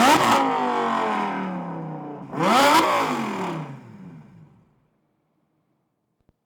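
A supercharged car fitted with a VF Engineering supercharger fires up in two loud, close starts, each a sharp burst settling into a falling whine and rumble, then dies away to silence.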